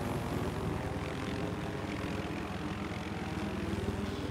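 Scout helicopter in a multiplayer military video game flying steadily, a continuous droning rotor and engine hum that stays constant and moderately loud throughout with no voices.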